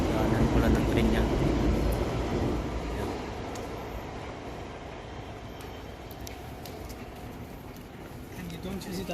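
Train rumbling along a railway near Camden Canal, a broad steady roar that is loudest at first and then eases to a lower continuous rush, heard from nearby with no clear talk.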